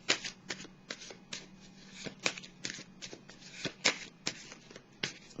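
Tarot cards being shuffled by hand, a rapid run of crisp riffling bursts and soft slaps, close and fairly quiet, with no speech.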